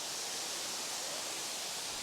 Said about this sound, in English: you can see there's a higher waterfall here than at the last level